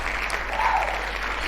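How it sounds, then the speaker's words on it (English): Applause at an Age of Empires tournament broadcast, a short, even wash of clapping that stays steady and fairly loud with no voices over it. "Can I get an applause?"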